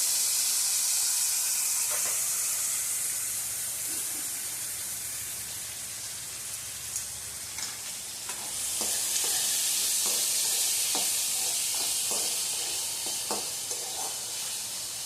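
Tomatoes frying in a tempering in a pan, a continuous close sizzle and hiss that swells midway, with scattered scraping and stirring clicks in the latter half.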